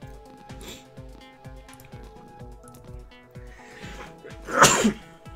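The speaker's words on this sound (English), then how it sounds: "I just sneezed all over myself" A loud, close sneeze bursts out near the end, preceded by a small cough and throat noises over a steady rhythmic thumping background during a live-action game of cards.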